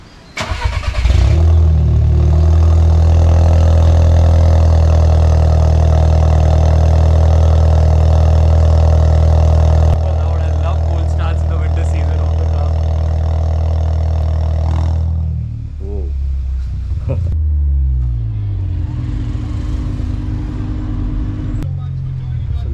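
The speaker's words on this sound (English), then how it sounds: "let's get the cold start of my Polo GT TSI" A Volkswagen Polo GT TSI engine cold-starts with a loud catch and high, steady revs that hold for several seconds before dropping to a quieter, settled idle.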